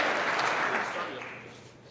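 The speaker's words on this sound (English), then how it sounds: "Let's give these guys a round of applause" An audience at a trucking company's monthly celebration applauds employee work anniversaries, a full burst of clapping that gradually fades, with some voices mixed in.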